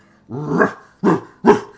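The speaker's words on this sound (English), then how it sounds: "You know, like a whole set of barks" A dog bark voiced by a person, a drawn-out growling bark followed by two sharp, close barks in quick succession.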